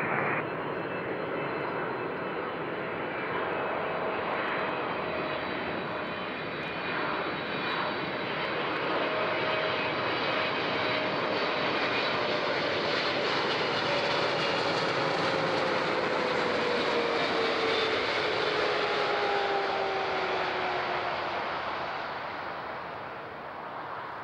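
A jet airliner lands on runway 14 at Zurich airport, its engines a loud, continuous roar with a slowly shifting whine that swells as it passes and then fades slightly.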